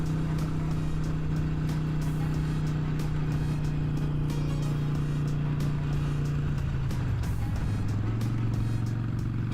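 A motorcycle ridden on a city street holds a steady engine hum that dips and settles at a lower pitch near the end as a gear is shifted, with road and wind noise throughout.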